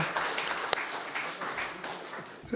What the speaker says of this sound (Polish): Wielkie brawa dla wykonawców i dla autora.